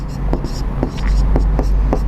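Handwriting during a maths lesson: rhythmic scratchy pen or chalk strokes tap out in short bursts over a steady low room hum.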